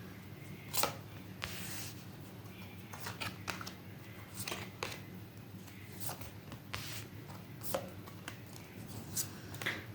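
A deck of tarot cards is shuffled by hand during a career reading, with repeated crisp riffling bursts and soft card slaps at an irregular rhythm, close and fairly quiet over a steady low background hum.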